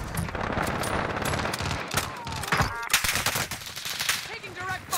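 Gunfire in Call of Duty: Warzone: dense, rapid bursts of shots crackle close and loud throughout, with a brief voice heard between them.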